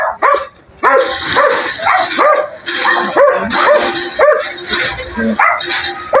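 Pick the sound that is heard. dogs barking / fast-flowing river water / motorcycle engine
dogs barking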